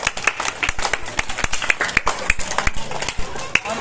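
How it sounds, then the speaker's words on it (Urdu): Children clap along at an outdoor monkey show, a quick run of sharp, uneven hand claps close by, with someone talking over them. "تالی لگا دو بچے"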